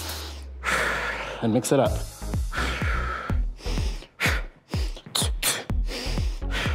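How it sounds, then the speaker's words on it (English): Sharp exhales during boxing punches, a series of quick forceful breaths in an irregular rhythm, close and loud, alternating with a person talking. "I like to breathe out when I punch."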